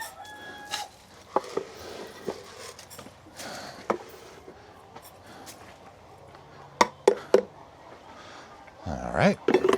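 Farm chickens cluck and a rooster crows during morning feeding, with a person talking nearby and sharp scattered clucks and calls throughout.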